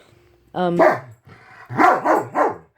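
A dog barks at close range: one sharp bark, a short pause, then a quick run of three barks with a slight growly edge.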